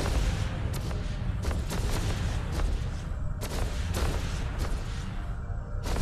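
Ship weapons firing in the space game EVE Online, a repeated series of sharp booming shots at an irregular pace, loud and layered over a steady low background rumble.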